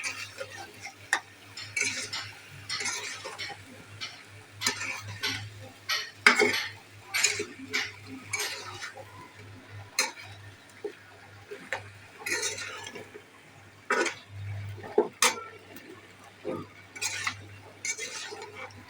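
Cut eggplant and potatoes being stirred in a metal pan, a string of irregular utensil scrapes and clinks, close and fairly loud, with a faint low hum underneath.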